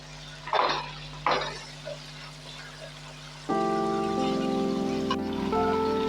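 Cardamom, mace and cinnamon fry in a pan while being stirred: a few scraping strokes over a soft sizzle, then music joins.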